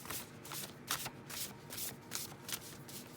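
Large tarot cards are shuffled by hand, a soft, continuous riffling and sliding with rhythmic swells, close and alone without speech.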